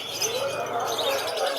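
Birds chirp and tweet at a pet market in San Jose, Bulacan, light overlapping calls against a busy background murmur.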